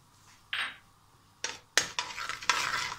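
Halwa mixture with cardamom powder being stirred in a pan over light frying, with a few scraping spoon strokes and clinks against the metal over a soft sizzle, close and short, with no talk.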